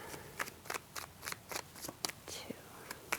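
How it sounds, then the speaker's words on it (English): Tarot cards being shuffled, a run of about ten crisp riffling bursts in a steady rhythm, close and fairly quiet. "Let me get 3 shuffles, please"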